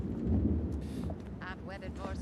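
Deep rolling thunder rumbles through a hurricane storm scene in a TV drama, loud and low at first, then easing under a voice that briefly speaks over it.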